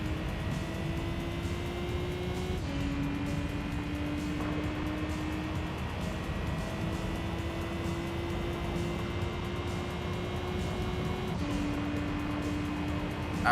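Toyota Supra race car in Gran Turismo 3, a steady engine drone with a sustained tone that jumps with each gear shift, continuous and fairly loud, with no one talking.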